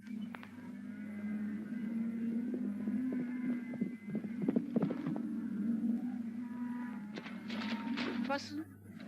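Hooves clop irregularly on hard ground over a steady low hum, with a cluster of sharper knocks and rustles near the end.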